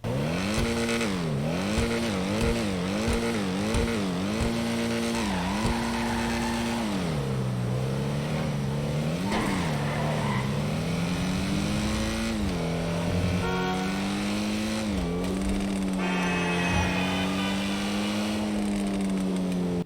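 Kamada car in GTA 5 revs repeatedly, its exhaust note rising and falling in quick rhythmic bursts before longer accelerations and shifts, loud and close with occasional tire squeal.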